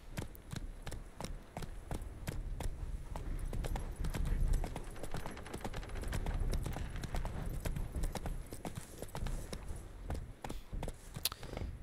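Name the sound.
horses trotting, wild horses in The Witcher 3 video game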